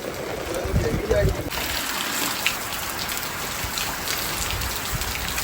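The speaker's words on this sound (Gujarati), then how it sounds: "જબરજસ્ત વરસાદ" Heavy rain with wind pours down steadily in a village, a dense continuous hiss of drops on surfaces, with brief voices near the start.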